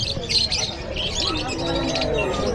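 Lovebirds and parakeets chirp and tweet busily at a crowded outdoor pet market, their high calls overlapping continuously over background chatter and market noise.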